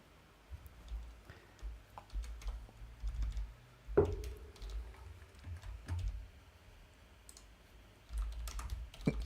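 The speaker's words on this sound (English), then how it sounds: "Wow, you type really loudly, dude. This keyboard is loud." Loud clacking of a computer keyboard being typed on, with irregular bursts of keystrokes and a few sharper heavy clicks, close up in a quiet room with no talking.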